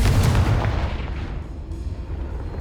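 A single heavy booming blast from the Confringo spell in Hogwarts Legacy, loud at first and then rumbling away into a fading tail, with no speech.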